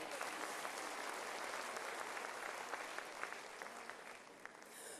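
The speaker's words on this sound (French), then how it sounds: "Merci de l'applaudir encore." Applause from a large audience at a Francophonie summit, a steady dense wash of clapping that holds for several seconds at moderate distance and thins slightly near the end.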